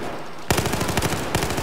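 Rapid automatic gunfire bursts out in the video game Battlefield 4, loud close rattling shots that start abruptly after a brief quiet and continue in fast repeated volleys.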